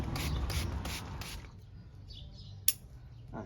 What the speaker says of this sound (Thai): ตอนนี้สเปรย์น้ำก่อน